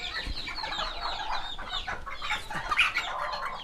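Serama bantam chicken hens, prize-winning show birds, clucking and chirping in a busy, close-up chorus of overlapping short calls with steady background noise, no talking.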